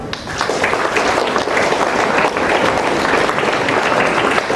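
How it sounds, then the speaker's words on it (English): A large audience at a Kargil Vijay Diwas school event at LR DAV Public School in Cuttack applauds loudly, with dense, continuous clapping holding steady throughout. "Clap for yourself."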